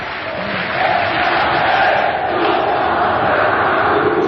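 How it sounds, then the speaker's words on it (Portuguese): Flamengo supporters roar in a packed football stadium during a Vasco da Gama versus Flamengo match, a dense, steady wall of crowd noise swelling slightly after the first moment and holding loud throughout. "E a torcida do Flamengo feliz da vida."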